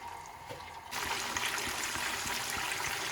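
Marinated tilapia goes into hot coconut oil in a small pan; a faint quiet start jumps to a loud, steady crackling sizzle with small pops that continues to the end.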